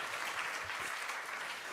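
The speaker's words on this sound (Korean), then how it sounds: "우리 한 번 더 뜨거운 박수 부탁드리겠습니다." A church congregation at an early-morning Lenten service claps warmly, a soft, continuous wash of applause heard from a distance in a reverberant room.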